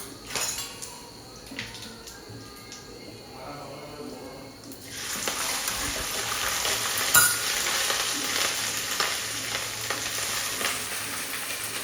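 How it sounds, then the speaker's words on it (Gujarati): Cumin tempering for dal fry hits hot oil midway, jumping from quiet kitchen clatter into a loud, sustained broadband sizzle that keeps hissing steadily, close by, with voices faintly in the background. "જીરાથી વઘાર કરી દીધું."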